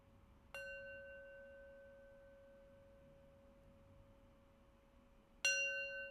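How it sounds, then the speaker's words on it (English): A meditation bell rings twice to close a practice session, each strike clear and pure with a long ringing tone that slowly fades, the second strike arriving about five seconds after the first. "I'll do so with 3 rings of the bell."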